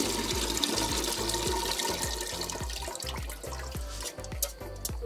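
Water drains and splashes from freshly washed leaves being emptied out, making a continuous, close rush of running liquid with scattered drips and gurgles and no speech.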